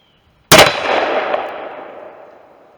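A single close, sharp gunshot from a lever-action rifle chambered in 454 Casull, firing a 255 grain full metal jacket bullet over 35 grains of H110 powder, followed by a long, fading ring and echo.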